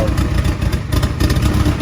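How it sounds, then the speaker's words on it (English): Engine runs with a 4-inch exhaust and no muffler on a Ford Fox-body project car, giving a steady, loud, rumbling drone close to the listener with a slight pulsing throb. "For a 4-inch exhaust and no muffler, it's not bad."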